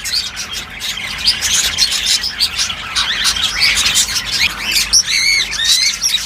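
Ring-necked parakeets in a breeding setup keep up a dense, loud stream of shrill chirps, squawks and whistled calls, several birds overlapping continuously, with brief wing flutters.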